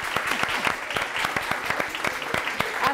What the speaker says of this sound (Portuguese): Já vamos fazer uma salva de palmas pelo evento,